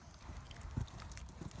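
A show horse moving in a flowing, rhythmic gait produces faint, distant hoof clip-clops in an uneven beat, with a soft muffled thud standing out midway.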